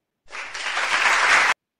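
A short burst of applause, steady clapping for just over a second that starts and stops abruptly.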